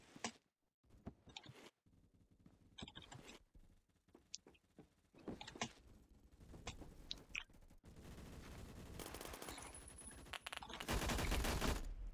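An MG3 machine gun in the shooter Phantom Forces, rattling off short bursts and longer sustained strings of fire, loud and close, separated by quieter gaps with clicks and handling sounds.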